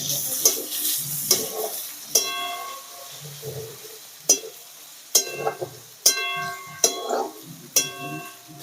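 Garlic and onion frying in a pan, with a steady sizzle broken by repeated sharp scraping stirs and clinks of a utensil against the pan at close range.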